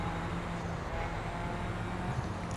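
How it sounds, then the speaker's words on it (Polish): Steady car engine drone in The Crew racing game, driving fast between traffic cars, a continuous low hum of engine and road noise with passing vehicles blended in, fairly quiet and even throughout. "Jadę za szybko pomiędzy tymi samochodami."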